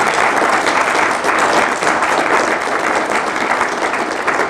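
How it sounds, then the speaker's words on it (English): Audience applauding in a building in Cheyenne, dense steady clapping from a large crowd that stays loud and unbroken throughout. "the applause now needs to erupt in this building for YPOFs"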